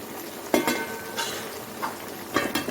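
Aviyal vegetables with cut mango are stirred in a pan: a few close scraping, clattering spoon strokes over a low sizzle.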